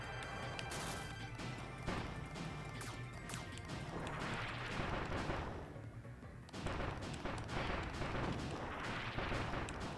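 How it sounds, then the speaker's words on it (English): Mortar shots and boss attacks from the Kirby's Return to Dream Land Deluxe video game make dense, repeated crashing and booming impacts over a steady layer of game noise, with a short lull partway through. "I'm realizing the mortar shot can neutralize a lot of this guy's attacks, and he deals some significant damage."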